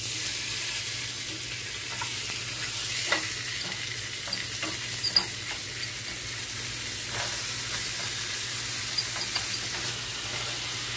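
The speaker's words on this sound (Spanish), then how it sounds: "Ojalá pudieran oler el olor tan rico que desprende esta carne ahorita que la estamos friendo" Marinated adobada meat frying on a hot comal over medium heat, giving a steady soft sizzle with scattered small crackles and pops, close and fairly quiet, with no talking.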